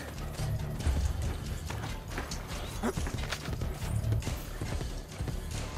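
Galloping horse in Assassin's Creed Brotherhood, during the Colosseum rescue mission while chasing a target, rapid clip-clop hoofbeats running continuously through a busy in-game mix, fairly close, with no talk.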